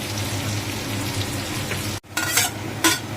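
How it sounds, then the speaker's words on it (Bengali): Potatoes fry in a pan of hot oil, a continuous close sizzle, cut by a brief drop to near silence followed by bursts of louder spattering and stirring scrapes. "আলুটা লাল লাল করে ভাজা হবে"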